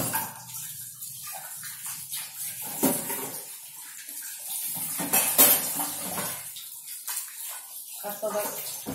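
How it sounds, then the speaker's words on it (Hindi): Dishes and utensils clatter and scrape in a kitchen sink under a strong stream of running tap water, steady splashing throughout with a voice talking over it at times. "मान लो मैं ऐसे बर्तन साफ कर रही हूँ तो थोड़ा पानी तेज चल रहा होगा"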